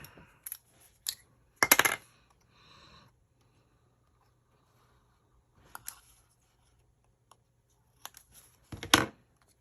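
Small paper leaves snipped off with scissors during sketch work, a few sharp, close cutting and rustling bursts separated by long quiet gaps.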